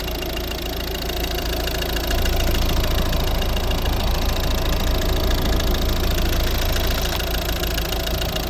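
A Volvo V50 2012 with a 1.6 D2 Peugeot-Citroën diesel engine running steadily, a loud, continuous diesel clatter with a slightly rising level after the first couple of seconds, heard alone with no talk.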